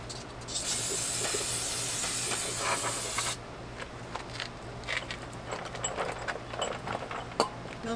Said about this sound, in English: I am going to go ahead and coat the areas I've cleaned already with this rust reformer just to seal them up so they don't flash rust